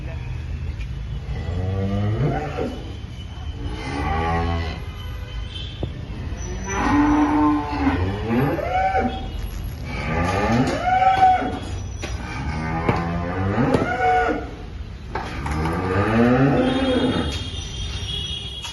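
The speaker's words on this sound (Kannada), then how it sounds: "ತುಂಬಾನೇ ಹಸುಗಳಿದ್ದು ಇಲ್ಲಿ" Several cows on a farm moo repeatedly in long, drawn-out calls, some close and loud, over a constant low background rumble.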